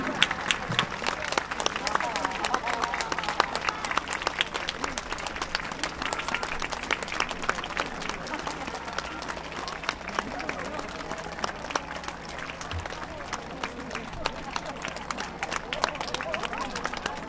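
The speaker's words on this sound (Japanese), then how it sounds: "感謝の気持ちを込めてもう一度盛大な拍手をお願いします" Audience applause follows a high school brass band performance at an autumn festival: dense, steady clapping from a sizable crowd lasting the full stretch, with some background chatter mixed in.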